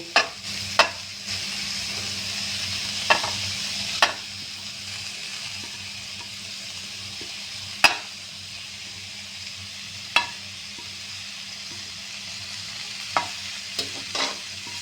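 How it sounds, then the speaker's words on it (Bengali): Ingredients stirred and fried in a kadai for a rohu fish kadai paturi: a steady, close sizzle runs throughout, punctuated by a handful of sharp spatula scrapes and taps against the pan at irregular intervals. "বন্ধুরা, আমি এটা নেড়ে চেড়ে একটু ভাজা ভাজা করে নিলাম। নিয়ে আমি একটু এখন আমি মাছগুলো দিয়ে দেব।"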